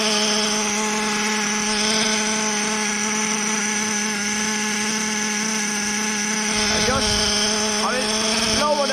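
A HoBao Hyper VS2 nitro RC car with a v19 engine idling once warmed up, a loud, steady high-pitched buzzing drone that runs throughout, with brief revving blips near the end.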